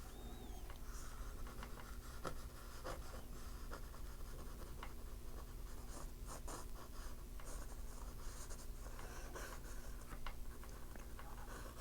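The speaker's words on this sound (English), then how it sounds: "I'm drawing lightly, even though the marks look dark, but I'm drawing very lightly" Pencil sketching lightly on paper while planning a snowman painting, soft scratchy strokes and taps in an irregular rhythm, quiet and close, with no voices.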